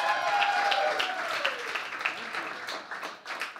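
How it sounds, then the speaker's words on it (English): A countdown event audience gives a round of applause for a gift presenter. The dense clapping starts full and loud, then gradually thins and fades, with a brief tone at the start and faint voices underneath. "Give him another round of applause."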